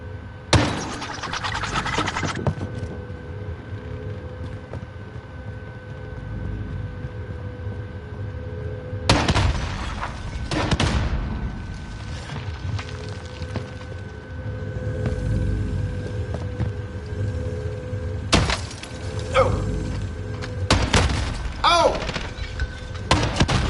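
Grenade explosions in the video game Warzone, several heavy booming blasts spaced apart, each with a burst of crackling debris, loud against a low ambient rumble with no talking.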